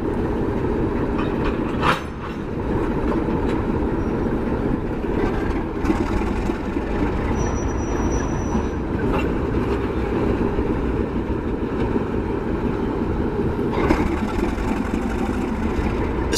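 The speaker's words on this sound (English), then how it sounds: "the RS11 has a much more raspy and or husky tone to its exhaust note" An Alco RS11 diesel road switcher locomotive runs with a raspy, husky exhaust note, a steady rumbling drone with rail clatter throughout and a few brief louder bursts.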